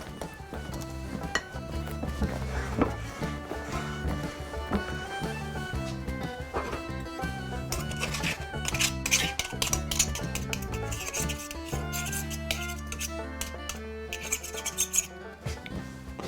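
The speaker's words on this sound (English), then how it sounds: "We'll start by cutting it with a dough cutter." A dough cutter cuts butter into flour for Irish soda bread, giving scattered soft clinks and scrapes of metal against a bowl, heard beneath steady background music.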